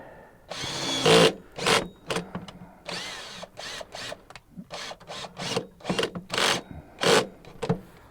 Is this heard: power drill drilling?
yes